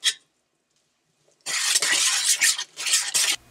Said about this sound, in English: Add your spices in. Give it a mix.